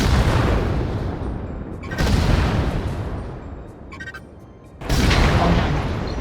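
Mech weapons in the virtual reality game Vox Machinae fire at a training target, producing heavy booming blasts in several long, loud surges separated by brief lulls.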